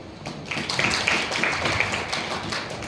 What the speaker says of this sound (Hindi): तो इसके लिए आप सभी के लिए तालियां।